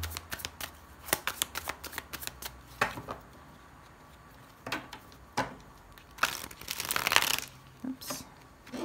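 Rider-Waite tarot cards being handled and laid out on a table, with scattered soft slaps, flicks and shuffling rustles in irregular bursts, close and fairly quiet.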